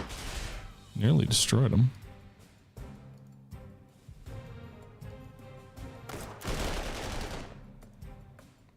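47mm anti-tank guns fire in Panzer Corps 2, a heavy blast and rumble rising early on and further thuds and booms following, while someone talks briefly over the battle noise.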